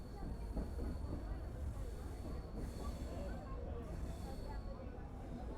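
A train pulls in along the platform track at a small, deserted railway station near Diphu, a steady rumble of wheels and carriages holding throughout at moderate loudness, with a faint tonal squeal running above it.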